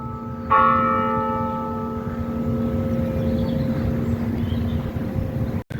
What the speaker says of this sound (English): Just in time for the bells though.